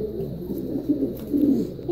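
Pigeons or doves cooing close by in a loft, soft repeated low coos in steady bouts with no talk.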